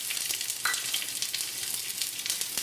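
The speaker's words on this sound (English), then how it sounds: "We'll go ahead and add in our mustard seeds and cumin seeds, chana dal," Mustard seeds, cumin seeds, chana dal and green chilies sizzle and crackle steadily in hot oil in a pan, a close, continuous frying hiss with small pops and no talk.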